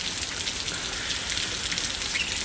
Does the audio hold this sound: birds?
no